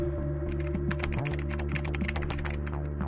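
Rapid keystrokes on a computer keyboard while an email address is entered, a quick run of close taps over a steady low electronic hum.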